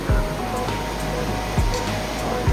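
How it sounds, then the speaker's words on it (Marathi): Steady broadband rush of water pouring into the natural hot spring pool at the Manikaran Gurudwara Sahib, a constant close splashing flow with a few low thumps. "गरम कुंडचं पाणी येतं"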